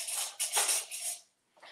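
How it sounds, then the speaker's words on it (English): A utensil stirring sugar-free, dairy-free, gluten-free shortcake batter in a bowl, a few quick scraping and clinking strokes up close, then a brief pause and one more faint stir. "Let me stir it up."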